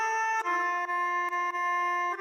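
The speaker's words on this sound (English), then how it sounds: "I recorded melodica again." Melodica playing a sustained reedy chord with clear harmonics, re-articulated in a few short breaths, layered into a bright game-style battle loop track, close and steady with no talking.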